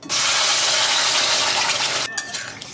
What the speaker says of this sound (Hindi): घी में तेज पत्ता, सूखी मिर्च, चुटकी भर हींग